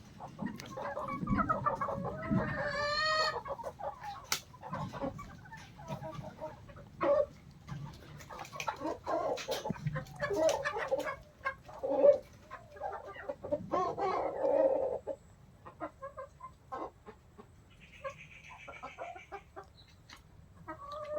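Desi hens cluck and murmur at a small poultry farm, a close, busy chorus of short clucks and cackles with occasional louder squawks, scattered irregularly over a quiet background.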